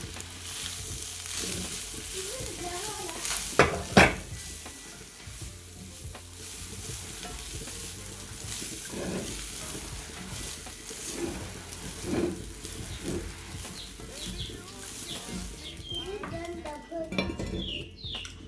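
Rice tipped into a hot cooking pot and stirred, spoon scraping and clinking against the metal over a continuous sizzle, with a couple of sharper knocks early on and irregular stirring strokes throughout.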